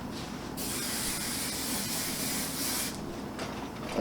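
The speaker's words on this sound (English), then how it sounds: "Another thing that's going to get rid of the flyaways is the pomade spray." Pomade spray hisses from an aerosol can onto hair in one steady burst lasting about two and a half seconds, soft and close, with faint rustling before and after.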